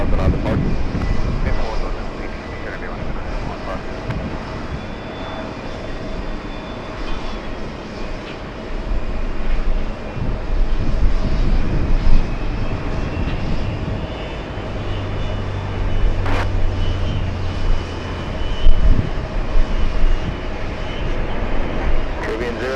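A heavy airliner departing runway 22 right at JFK, bound for Guangzhou, a loud sustained jet engine roar that swells and rumbles, heard from nearby with a person talking over it.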